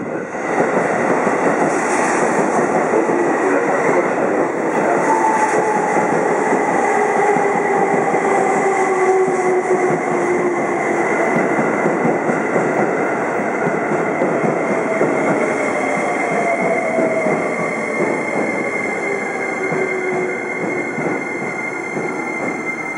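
A limited express train, Azusa No. 3, at a Japanese station platform, a steady loud rolling roar with drawn-out wheel squeals rising and falling across the whole span, with a constant high hum above it and no talk.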